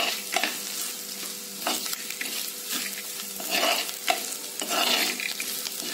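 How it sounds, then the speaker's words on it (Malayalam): Close, faint scraping and soft clinks of a spoon stirring chili powder into Kerala buttermilk curry in a pan repeat irregularly over a low sizzle. "ഇനി നമുക്കിതിൻ്റെ പച്ചമണം മാറുന്നതോടം പോലെ നല്ലപോലെ ഇളക്കി കൊടുക്കാം."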